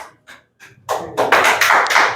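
A classroom of students applauds a classmate who spelled a word correctly, starting with a few sparse claps that quickly build into loud, dense group clapping close by, with no talk.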